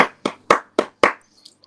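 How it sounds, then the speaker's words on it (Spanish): One person clapping hands five times at a virtual urban-arts event, sharp separate claps in a fairly even rhythm, close and clear, then quiet. "Por eso aplaudo yo"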